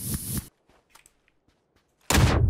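Gunfire in the shooter game PUBG on the Miramar desert map: a short loud burst of shots, a near-silent gap, then another sustained loud volley.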